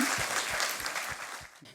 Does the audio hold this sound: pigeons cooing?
no